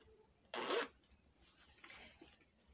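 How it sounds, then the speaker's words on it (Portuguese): A zipper on the back pocket of a denim bag is pulled once, a quick loud rasp, followed by a fainter second zip in a quiet room. "O bolsinho de trás também, que ficou esse bolsinho de zíper."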